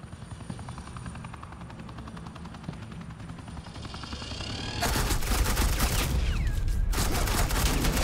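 Suppressing gunfire from Agent Quinn in a Batman video game: a low helicopter-like drone first, then sustained, loud rapid-fire bursts erupt about halfway through and continue steadily to the end.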